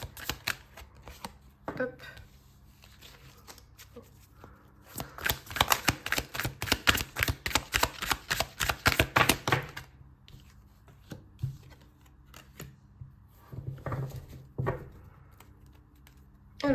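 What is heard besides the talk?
shuffling tarot cards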